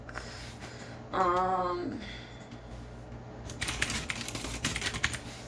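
Fingers tap a computer keyboard while an author's name is entered into a Notion journal-article page; the close, quiet clatter comes in a short burst at first and a denser run of keystrokes near the end, with a brief vocal sound in between.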